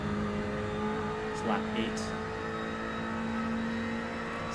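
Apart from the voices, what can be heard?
Ferrari GT3 race cars revving on track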